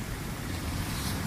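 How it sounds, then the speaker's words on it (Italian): Choppy sea with rough waves washing continuously at a shore fishing spot, a steady broadband rush with some wind buffeting the microphone and no voices. "Il mare è questo di qua, mosso, come vedete"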